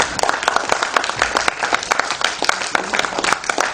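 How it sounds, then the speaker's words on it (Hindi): An audience gives a hearty round of clapping to welcome a guest at a formal gathering, with sharp, brisk hand claps packed densely throughout, close and lively. "बहुत जोरदार ताली बजा के उनका स्वागत करें"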